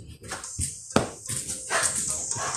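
A dog barks sharply nearby in a couple of loud bursts within a short, busy moment, with a faint voice in the background.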